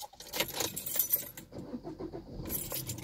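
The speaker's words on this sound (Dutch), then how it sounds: "nu nog mijn sleutels vinden." Keys jangle in a close, busy metallic rattle that runs through most of the moment, pausing briefly in the middle before resuming; no one speaks.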